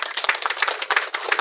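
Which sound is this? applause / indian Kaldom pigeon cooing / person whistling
applause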